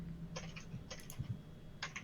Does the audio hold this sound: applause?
no